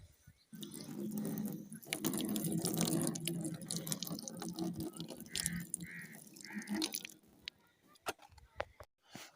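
Water splashing and running over a 300 watt, 24 volt solar panel while it is washed, a fairly quiet wet rush with drips and squishing that trails off near the end.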